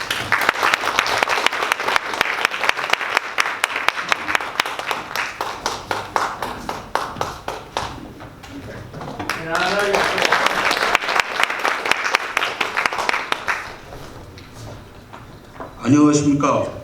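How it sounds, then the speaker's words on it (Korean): Audience applause at a textile and fashion policy forum greets the foundation chairman as he comes up to give a welcome address. The clapping is steady and sustained, with a short burst of talk near the end. "이사장님을 큰 박수로 모시겠습니다"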